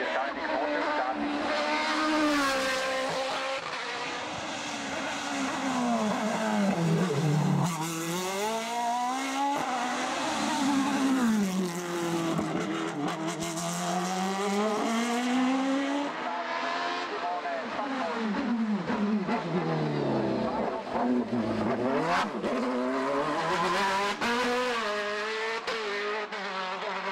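A race car at the start of a hill climb race in Ilirska Bistrica, its engine revving loudly and continuously with rising and falling pitch sweeps across the whole stretch, close and dominant.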